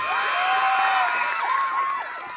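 A fiesta crowd in Barangay Tabon in the Philippines claps and cheers in a steady loud roar, with shouts and whistles rising above it before it eases slightly at the end.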